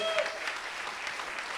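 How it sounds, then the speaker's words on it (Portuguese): A church congregation claps in a short, even wash of applause at a moderate level, following a short tone at the start. "Quem crê, dê mais uma salva de palmas a Deus."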